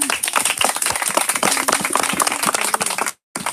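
A congregation at a baptism claps and cheers for Jesus, loud rapid applause filling the space continuously before cutting off abruptly near the end.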